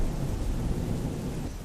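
Heavy rain with rumbling thunder in a Hindi horror cartoon story, a continuous loud downpour with deep low rolls throughout.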